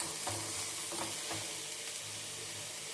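A drumstick fry with freshly added raw coconut sizzles in a pan as a spoon stirs it in repeated scraping strokes, close and steady with constant frying hiss.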